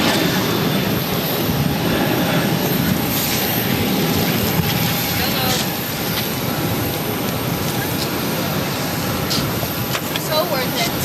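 A jet airliner takes off from runway 22 right at Boston Logan airport, its broad engine roar holding steady and loud throughout, with radio talk from air traffic control mixed in.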